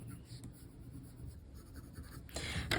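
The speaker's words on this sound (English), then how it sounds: "I'm angling it so I'm getting the edge of the colored pencil." A colored pencil, angled onto its edge, is drawn around a circle on paper, giving soft, close scratchy strokes that swell into a louder, quicker rub near the end.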